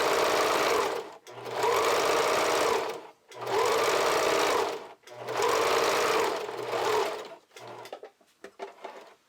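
A sewing machine stitches elastic onto kids' underwear in four bursts of rapid, close needle chatter, each separated by a brief pause, ending with a few short clicks.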